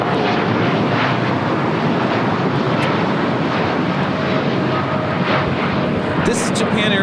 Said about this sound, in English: This is Japan Airlines Flight 61 taking off to Tokyo Narita on a 787-8 Dreamliner